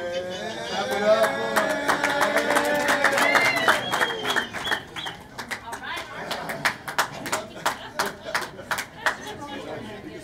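A crowd at a school board of education meeting bursts into applause, with dense clapping and chatter at first, thinning to scattered individual claps near the end as voices continue.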